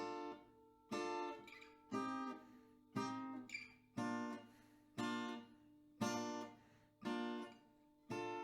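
An acoustic guitar plays the chord pattern of a song slowly, one plucked chord about every second, eight in steady succession. Each rings clear and close, then fades before the next, with no voices.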